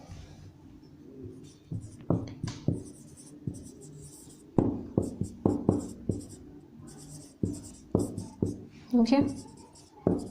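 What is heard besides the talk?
writing on a board during a maths lesson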